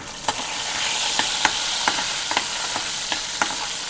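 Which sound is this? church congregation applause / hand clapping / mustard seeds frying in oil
mustard seeds frying in oil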